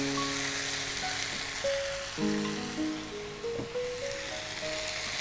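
Spices sizzle and crackle steadily in a hot pan, with a soft broadband hiss throughout and a few brief tonal clinks and scrapes near the end. There is no talk.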